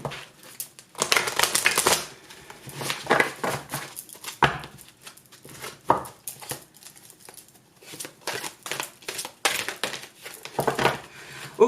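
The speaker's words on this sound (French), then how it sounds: "c'est vrai que ces cartes sont un régal à brasser" Tarot cards are shuffled by hand in repeated quick bursts of riffling and slapping, close and fairly loud, with brief pauses between the flurries.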